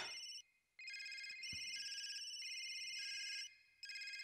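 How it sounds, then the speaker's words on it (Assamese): A mobile phone ringtone plays in repeated bright electronic bursts with short gaps, clear and alone, with a faint thud partway through. "এইটো বা আকৌ কোন কামোৰৰ ফোন আহিল"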